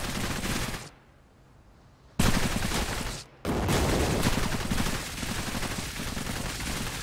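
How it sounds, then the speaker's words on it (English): Heavy squad gunfire in the video game Cepheus Protocol, pandemic mode: dense continuous automatic bursts that drop out briefly twice before roaring back loud and sustained. "We are laying down the fire here, and they are just not even getting close."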